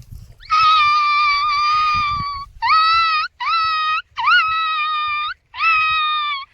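A person imitates a dog's whine in a village setting, giving a long high-pitched wavering cry followed by four shorter whimpering bursts, loud and close, with faint background chatter.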